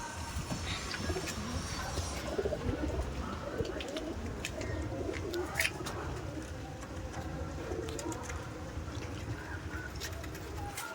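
Pigeons coo steadily in a newly arrived flock, soft repeated calls layered over a constant outdoor rumble of wind or distant traffic, with no clear voices.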